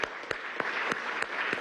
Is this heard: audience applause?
yes